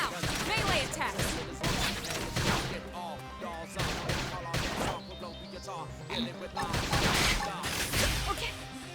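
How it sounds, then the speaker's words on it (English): Gunfire in the video game Xenoblade Chronicles X, bursts of sharp shots and impacts repeating in rapid clusters, loud and dense throughout alongside game speech. "Topple them with gunfire."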